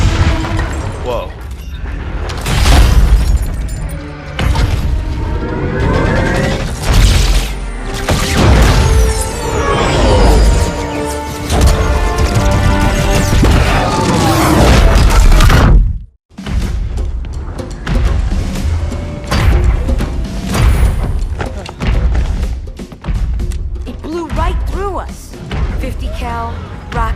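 Rocket explosions and heavy booms fill a Halo video game cinematic, dense rumbling blasts and gunfire under dramatic music and voices, with a sudden brief cut midway before the chaos resumes.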